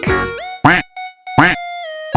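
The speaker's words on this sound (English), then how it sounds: "D is for duck." Several quacks from a duck, some long and nasal, others short, separated by brief pauses, close and fairly loud.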